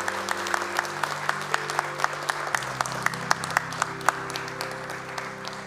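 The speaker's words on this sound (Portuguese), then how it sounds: "Vamos aplaudi-la." Enthusiastic applause from an audience at a formal award ceremony, dense clapping that carries on steadily for several seconds, with a few sharper claps standing out.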